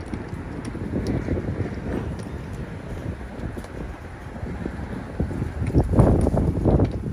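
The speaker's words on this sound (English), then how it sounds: "It's a little windy today in New York." Wind blows steadily outdoors in New York, buffeting the microphone with low rumbling gusts that grow stronger toward the end; no voices.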